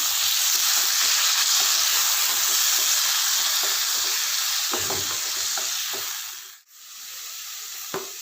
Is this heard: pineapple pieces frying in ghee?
yes